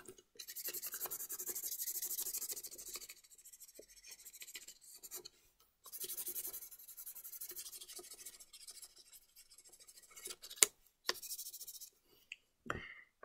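Coloured pencil scratching and rubbing on paper in bursts, steady hissy strokes with short pauses between, close up, no talking.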